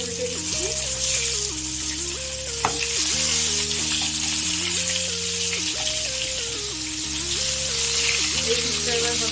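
Flipped eggplant slices fry in hot oil in a wok with a loud, continuous sizzle beneath steady background music.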